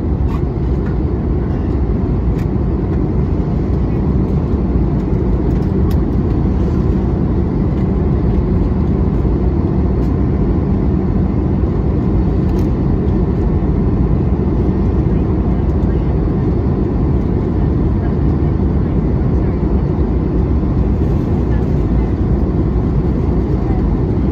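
Steady, loud broadband roar inside the cabin of a Delta Airbus A321 during descent toward Atlanta, a constant engine and airflow rumble with no breaks, and faint talk under the noise.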